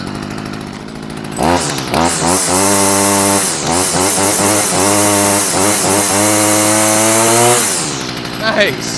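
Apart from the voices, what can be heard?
Stihl weed trimmer engine running after carburetor repair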